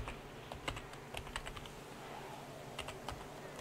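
Quiet typing on a computer keyboard, scattered soft keystrokes in short bursts with gaps between them, heard alone against a faint hum.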